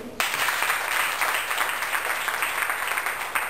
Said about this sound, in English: So let's clap them again.